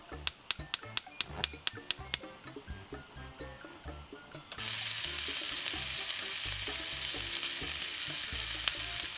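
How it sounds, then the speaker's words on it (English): A quick run of evenly spaced clicks comes first, then bacon pieces hit the pan and a loud, dense sizzle takes over and holds steady to the end as the fat renders. "we're gonna grab our pan, and what we're gonna do is we're gonna add our bacon to the pan."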